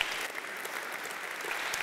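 Audience applause at an autumn literary gala, a dense, even patter of many clapping hands sustained throughout, moderately loud with no voices over it.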